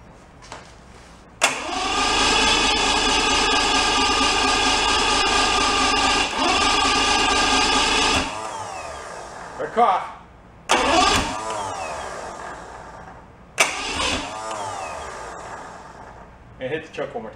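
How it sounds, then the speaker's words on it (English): An old bass-boat outboard engine that has sat unused for ten years is cranked, starter grinding loudly for several seconds, then short repeated cranking bursts with gaps; a voice speaks between attempts. "Let's just go crank her a little bit more, see what we get."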